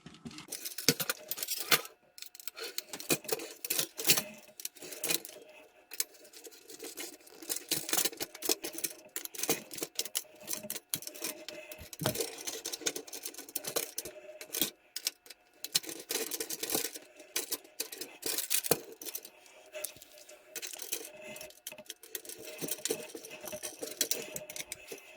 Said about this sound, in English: now it's time to give everything a good tighten